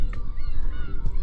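Seagulls on the coast give a few loud, close, honking calls in quick succession, with no talk over them.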